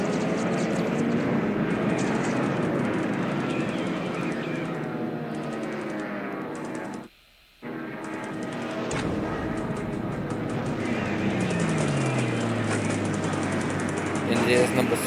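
Aircraft engines drone through a dive bomber airstrike in the computer war game War in the Pacific, a loud continuous roar that cuts out briefly midway and then swells again, with a voice talking over it.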